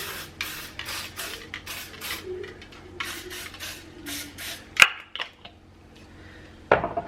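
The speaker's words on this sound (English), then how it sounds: "we are going to spray down our muffin cups here just so nothing sticks" Several short bursts of cooking spray hiss close by in quick succession onto a muffin tin, followed by a couple of sharp metallic clanks of the tin being handled.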